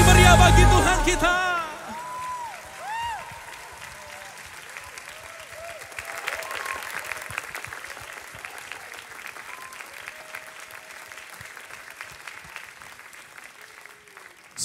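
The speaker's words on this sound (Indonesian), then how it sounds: "Sorak-sorai tepuk tangan paling meriah bagi Tuhan kita." Applause and cheering from a church congregation rise as music ends, then settle into steady clapping with scattered whoops and voices that carries on through the rest of the clip.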